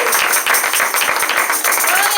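Church congregation clapping hands in rhythm during a Spanish-language worship service, a steady run of sharp claps sounding throughout alongside loud voices.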